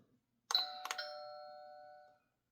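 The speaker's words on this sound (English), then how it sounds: "let's ring the doorbell." A two-note ding-dong doorbell chime at a house door rings once, clear and close, with a long ringing decay and no talking.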